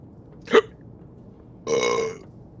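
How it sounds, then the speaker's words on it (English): Two loud, close burps during Escape From Tarkov gameplay, a short sharp one followed a second later by a longer, rumbling one, against a quiet background. "You always burp and hiccup at the wrong time."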